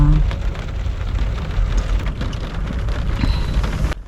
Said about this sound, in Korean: 아 간만에 빗소리 들리는거 너무 좋다.